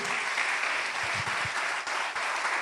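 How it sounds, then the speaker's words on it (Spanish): A church congregation applauds during a Spanish-language sermon on the priesthood of the believer, a steady, dense wash of clapping from many hands that holds throughout. "¿Alguien le da un aplauso a Jesús?"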